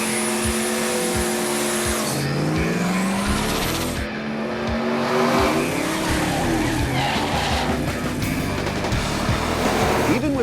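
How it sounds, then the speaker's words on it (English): Tires squealing on a big-block Chevy 454 SS pickup truck fitted with Mickey Thompson ET Street tires, breaking loose under wide-open throttle: a loud, continuous screech over the roaring engine, rising in pitch as it revs. "the torque of the big block still broke the tires loose under wide open throttle"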